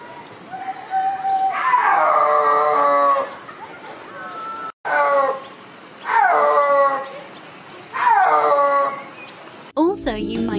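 A snow leopard gives a series of moaning, yowling calls with harmonic tones, each several seconds long, separated by brief pauses, fairly close and loud.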